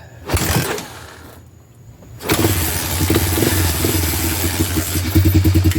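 After carburetor work, a Honda Big Red ATV engine is started with a mechanical clatter and settles into a loud, close, steady idle with a rhythmic, slightly uneven chug.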